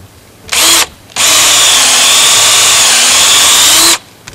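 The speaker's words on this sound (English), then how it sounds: "we want to drill in the tree maybe an inch and a half" A loud power drill whirs in a short burst, pauses, then runs steadily for about three seconds, grinding as it bores into the wood of a maple tree before stopping.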